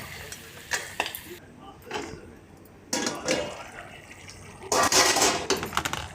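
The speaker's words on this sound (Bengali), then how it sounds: "ভালো করে একটু নেড়ে জল ঢেলে দেবো" Fish-bone curry with fried potatoes being stirred in a pan, then water poured in: scraping and stirring clatter followed by gushing, splashing bursts, with some faint talk.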